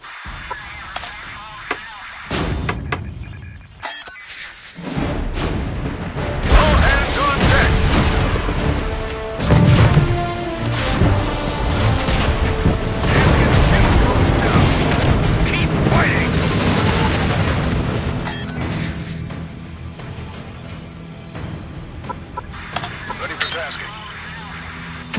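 Naval gunfire and explosions in the video game Battleship, heavy booms and blasts under a dense wash of battle noise and music, loud through the middle and easing toward the end.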